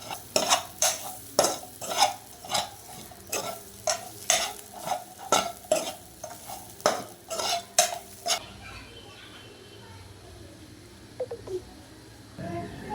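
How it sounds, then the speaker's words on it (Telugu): Coconut mixture with turmeric frying in a pan over low-medium flame, a spatula scraping and tapping in a quick regular rhythm against the pan over soft sizzle, then stopping and leaving a faint sizzle. "మొత్తం మిక్సీని కూడా ఒక 5 మినిట్స్ వరకు కూడా మీడియం ఫ్లేమ్ కంటే తక్కువ ఫ్లేమ్లో బాగా వేయించుకోవాలి"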